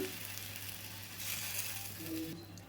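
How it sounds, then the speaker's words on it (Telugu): Tamarind juice poured into a hot pan for chutney sets off a steady, close sizzle and hiss that swells and fades slightly over a few seconds. "చూడండి చింతపండు రసాన్ని మొత్తం కూడా ఇట్లా పోసేసుకున్నామండి"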